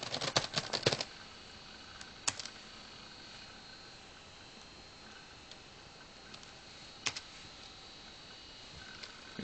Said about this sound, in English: I'm just typing all generic crap